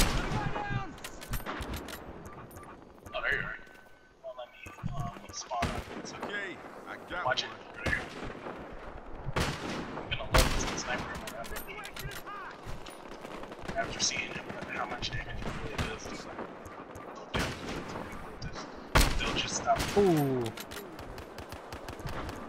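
Gunfire from the 98 sniper rifle and other weapons in the video game Battlefield Hardline, with repeated loud sharp shots and bursts over dense battle noise, and players talking throughout.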